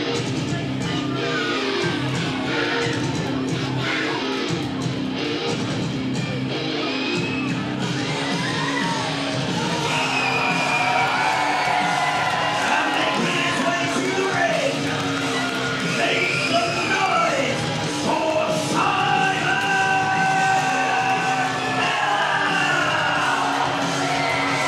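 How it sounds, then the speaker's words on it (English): A capacity wrestling crowd at a Brockington show screams, whoops and cheers for Simon Miller, a dense, continuous roar of yelling voices that stays loud throughout. "This capacity crowd are screaming and shouting for Simon Miller."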